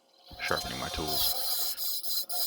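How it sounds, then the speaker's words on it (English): Woodturning tools being sharpened, likely on a grinder, with a steady abrasive rasping and hiss that starts after a brief quiet moment and continues at close range with a few short dips. "Sharpening my tools."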